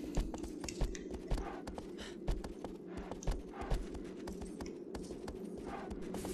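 A horse's hooves clip-clop in Shadow of the Colossus, a steady walking rhythm of distinct, fairly quiet hoof strikes over a soft ambient background.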